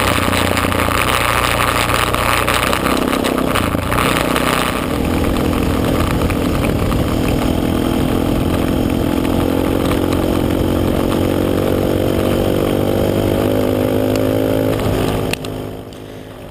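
A KTM dirt bike rides along rough Baja dirt roads, its engine droning loudly and continuously with shifting pitch as it accelerates, heard up close with steady wind and road noise.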